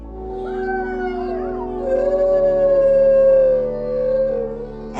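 A pet wolf howls up close, one long wavering, rising and falling howl that swells in the middle and holds for several seconds, with a second voice briefly joining, and no talk over it.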